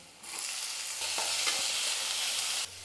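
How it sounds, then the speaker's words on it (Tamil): Onions and tomatoes fry in a pan with a close, steady sizzle and brief stirring scrapes, no voices over it. "இப்போ வெங்காயம் வந்து வதங்கிடுச்சு இப்போ தக்காளி சேர்த்துக்கலாம்"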